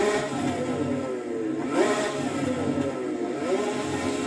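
A Porsche 917 CanAm race car engine in a racing sim game drones at steady mid pitch, with whining revs rising and falling in smooth sweeps as the car accelerates, continuous and fairly close, no talking.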